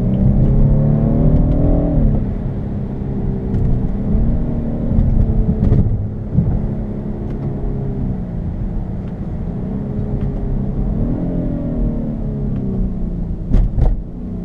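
Interior sound of a 2015 BMW 328xi pulling away in winter, engine revs climbing and falling through several gear shifts in a smooth rhythmic pattern, moderately loud and close with no talking.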